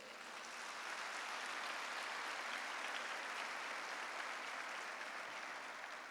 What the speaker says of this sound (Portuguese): Dá um aplauso ao Senhor.